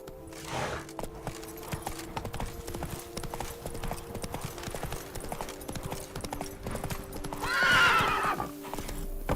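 Horse galloping in The Witcher 3, rapid hoofbeats drumming steadily throughout with a whinny rising near the end, a rider's voice faintly under the hooves.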